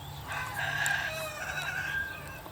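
Betong chickens on a Chiang Mai farm, with a rooster crowing in drawn-out, wavering calls over a steady low hum, fairly close and moderately loud.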